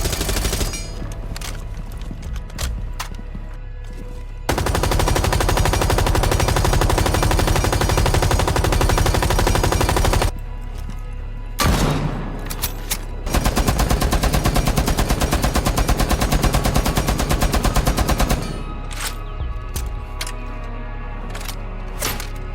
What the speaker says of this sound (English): the guns in the game are beautiful. They sound so clean every time you fire them